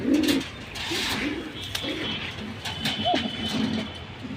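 Soft, low pigeon coos repeat through the clip, a few rounded calls rising and falling close by over a steady background hiss, from Hammer Silver Pankhi and Military pigeons.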